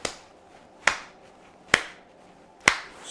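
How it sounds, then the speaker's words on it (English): Four sharp, close hand claps spaced evenly almost a second apart, a deliberate slow clap with short decays and no talking. "slow clap."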